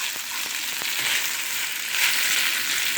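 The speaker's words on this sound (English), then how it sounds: "pop the noodles in there and fry them up" Noodles frying in oil for Thai rad na, a loud continuous crackling sizzle heard up close, with a few scattered clicks of stirring.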